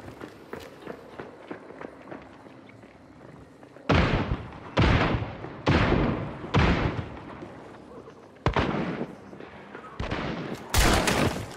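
Loud bursts of rapid gunfire from a first-person shooter video game come in several clusters after quieter running footsteps, close and punchy.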